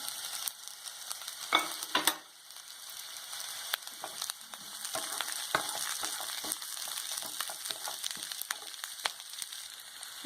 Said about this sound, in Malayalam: ഇനി ഇതിനകത്തേക്ക് ക്യാപ്സിക്കം ഇട്ട് കൊടുക്കാം